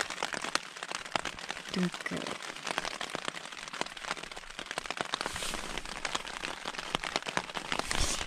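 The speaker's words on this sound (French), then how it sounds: "Et juste après, bah, il s'est mis à pleuvoir." Steady rain patters and crackles on a taut tarp overhead, dense and close, with a brief spoken word partway through.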